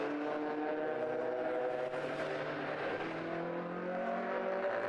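Modified Ford racing cars, including a winged Mark 1 Escort, pull out onto the circuit at Oulton Park, a steady rising engine drone heard from a distance with pitch sweeping as the cars pass.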